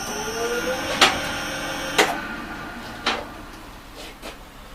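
A boilie-making mixer tank machine runs while it is being cleaned, giving sharp rhythmic knocks about once per second over a low mechanical hum.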